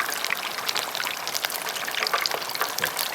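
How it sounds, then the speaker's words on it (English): Beer-battered cod, Guinness batter, frying in hot oil: a steady, dense crackling sizzle with fine popping bubbles, close and continuous throughout without any talk. "So get that batter to set as much as you can before we fry them."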